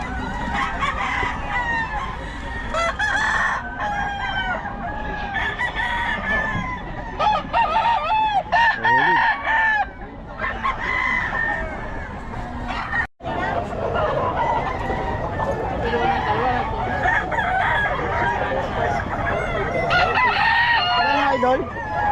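Chickens and roosters crowing and clucking at a busy poultry market in Bocaue, Philippines, many birds calling over one another in a dense, continuous, loud din with a brief dropout near the middle and people talking faintly.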